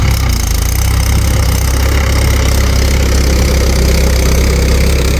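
A tractor engine works steadily in a cotton field during hauling, a continuous, loud low rumble with an even idling drone and no talk over it.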